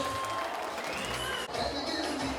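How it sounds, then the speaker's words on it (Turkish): An audience claps at a festival cooking contest, with steady applause filling the space and a faint crowd murmur beneath it. "alkış."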